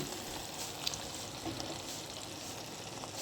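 Tomato, ginger paste and garlic paste fry in a pan while being stirred, giving a steady, even sizzle with faint scraping, no voices.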